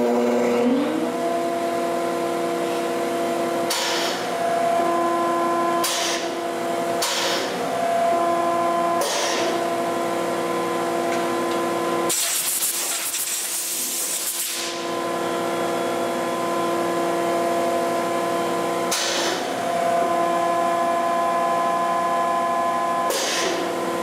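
A pin router with a pneumatic ram runs in a woodworking shop, its steady motor whine broken by sharp periodic bursts and a louder hissing blast midway, close and continuous.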